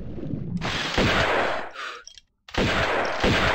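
Harpoon gun fire in the video game Tomb Raider 2, heard as several loud, sharp shot bursts with brief gaps and one near-silent pause between them.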